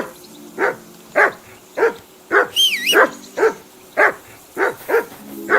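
Mutt, a dog in Kingdom Come: Deliverance 2, barks in a steady run of close, loud yelps, roughly a dozen evenly spaced, with a brief high whine mixed in midway.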